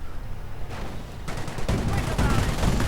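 Autocannon fire from an armored car in a WWII strategy video game with British and Luftwaffe units, dense bursts of rapid shots building into a heavy, continuous rattle that grows louder and rougher over the stretch.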